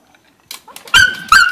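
Small dog barking at an umbrella indoors, soft scrabbling and a faint yip followed by two sharp, loud, close barks.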